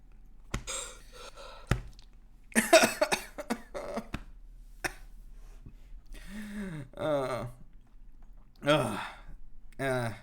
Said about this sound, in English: Just leave me to cough here.